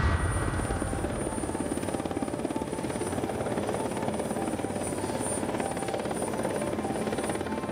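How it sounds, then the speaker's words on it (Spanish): A rescue helicopter arrives for survivors stranded in intense cold. Its rotor beats and engine whine form a constant, close, loud roar that fills the whole stretch, with no voices. "fue un gran alivio ver llegar al helicóptero"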